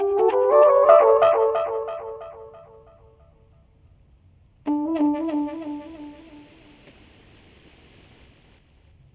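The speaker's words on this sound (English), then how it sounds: "really proud of this trumpet sound. So I want to play it for you all." A trumpet sound carries a recorded tune in two phrases: a bright run of notes that fades into near silence, then a second phrase that starts abruptly with a faint hiss above it, moderately loud with no voices.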